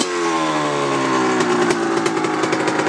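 A 2004 Honda CR85R dirt bike engine idles and blips loudly up close, its exhaust pipe leaking at a worn O-ring gasket and adding a sharp metallic ding over the buzzing two-stroke drone.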